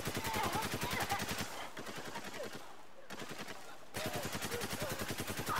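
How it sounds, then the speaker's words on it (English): Rapid automatic gunfire in the video game Spec Ops The Line rattles in dense bursts, loud and close, then pauses briefly before the shooting resumes. "I'm taking the shot!"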